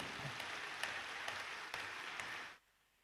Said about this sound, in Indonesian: mari kita berikan apresiasi dan tepuk tangan untuk kita semua